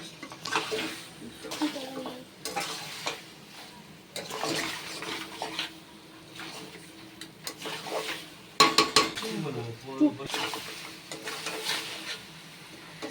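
Mutton tengri with fat is stir-fried with spices in a pot, with clattering spoon-on-metal stirs, wet squelching and a faint frying hiss, while someone talks intermittently.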